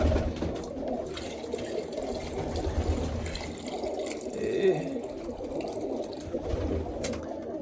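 Water splashes and trickles as it is poured out for pigeons, while the birds coo softly nearby and a low outdoor rumble runs underneath.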